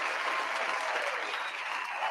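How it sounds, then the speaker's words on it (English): Group at a table-talk show giving themselves a round of applause, steady close clapping that continues throughout without voices. "let's give ourselves a round of applause"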